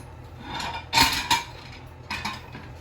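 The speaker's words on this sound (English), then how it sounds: "I'm cutting the Delicatta squash in half" A knife cuts a delicata squash in half on a board, giving a couple of sharp, close knocks and scrapes of the blade with a quieter clack later, against a faint background.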